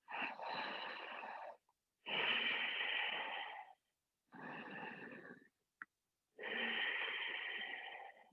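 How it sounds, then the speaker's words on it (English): Deep, audible breathing during a yoga forward fold, four long, wheezy breaths close to the listener, separated by short silences. "And breathing."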